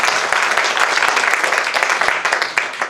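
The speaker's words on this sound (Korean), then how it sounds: "박수로 환영합니다" A church congregation applauds to welcome an interpreter to the front, a loud sustained round of clapping with distinct individual hand claps standing out through the dense, even roar.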